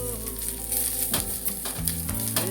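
Steady sizzling and crackling of grated coconut frying in ghee, close and continuous, with a few stirring scrapes and no talking.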